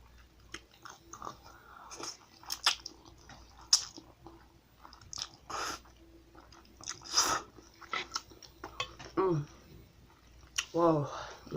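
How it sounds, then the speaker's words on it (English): Someone eating roasted chicken ramen with vegetables bites into jalapeno, producing close, wet crunching and squishy chewing in irregular bursts, with breathing and small mouth noises in between. "I'm gonna try jalapeno now."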